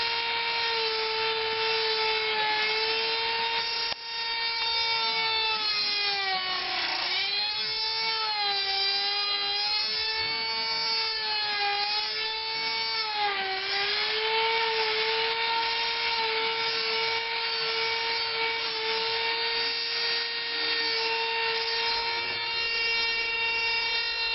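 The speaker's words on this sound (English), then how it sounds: "Make sure you also hold your Dremel very, very firmly," A Dremel rotary tool carves a wooden sword, its high whine holding steady with bending pitch dips as the bit bogs into the wood, loud and close with no talking.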